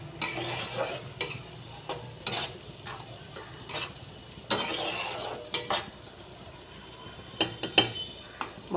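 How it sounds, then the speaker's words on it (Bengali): Spice masala with salt and turmeric frying and being stirred in a pan, a steady sizzle broken by repeated scraping strokes of a spoon against metal, close and fairly loud with no talking. "মশলাটা ভাজা হোক।"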